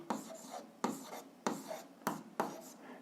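Chalk or pen strokes writing out a physics calculation of force in class, five distinct scratchy bursts in a steady rhythm, close and clear with no talking.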